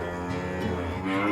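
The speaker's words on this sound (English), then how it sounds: "It's the cow!" A black and white cow moos in a single long, steady, fairly loud call from a toddler farm-animal learning show, with no talking over it.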